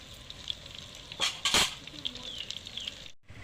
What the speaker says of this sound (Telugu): ఒక ఉల్లిగడ్డ వేసుకోవాలి మంచిగా వలవల దాకా గోలాలి నూనెలో